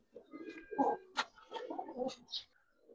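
Giribaz and coloured pigeons at a pigeon farm coo softly in a series of low, burbling calls, close and fairly quiet.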